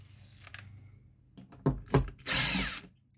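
Wood screws being backed out of a KEF Reference 104 speaker to remove its tweeter, with a couple of close knocks followed by a sustained whirring screwdriver burst.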